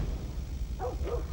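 Two short dog barks ring out from outside in Final Fantasy 7 Remake, faint and a little distant over a steady low background rumble.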